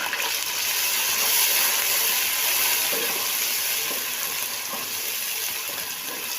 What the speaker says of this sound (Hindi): लहसुन अदरक मेरा भून चुका है, तकरीबन 1 से 2 मिनट ही बस भूनना है